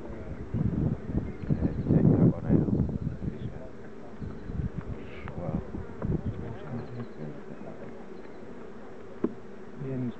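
Honeybees buzz around an opened hive at an apiary, a steady insect drone heard close by, with people talking over it in places.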